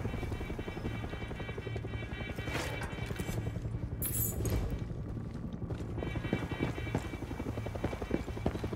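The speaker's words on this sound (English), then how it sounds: "there's the helicopter." A helicopter in the video game Far Cry 6 gives off a steady rhythmic rotor chop mixed with other game sounds, including a clattering, hoof-like patter. The whole scene stays fairly faint and evenly level throughout.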